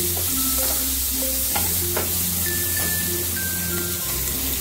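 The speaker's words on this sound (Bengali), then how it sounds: "পেঁয়াজটাকে দিয়েও আবার একটু নাড়াচাড়া করে নিই" Chopped onions fry in a hot pan with steady, loud sizzling while a utensil stirs and scrapes through them in repeated close strokes, with no voices.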